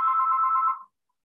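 A telephone rings once, a clear electronic tone lasting under a second that cuts off abruptly into silence, with no voices around it.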